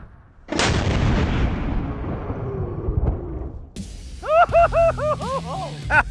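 A big gun firing at a car target, one loud deep blast with a long rolling rumble fading out, followed by excited voices reacting.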